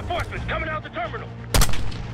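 Gunfire in the Call of Duty Black Ops 6 campaign: voices talk first, then one loud, sharp shot cracks out near the end and leaves a brief rumbling tail.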